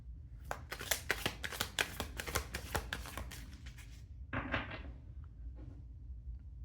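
A deck of tarot cards is shuffled close up in a quick burst of crisp riffling clicks lasting a few seconds, then a short second riffle, with no talking.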